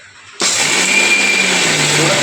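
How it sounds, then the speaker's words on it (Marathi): A mixer grinder starts abruptly after a moment of quiet and runs with a loud, steady whirring roar to the end, coarsely grinding ingredients for sambar. "आता हे मिक्सर आपण लावलेलं आहे इथे"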